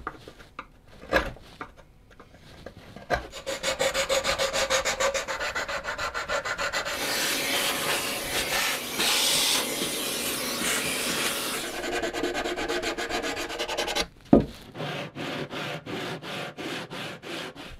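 Braced acoustic jumbo guitar top sanded on a radius dish to clean off leftover wood and glue, steady rhythmic rubbing strokes building into a loud sustained scrape, then a sharp knock and lighter rubbing at the end.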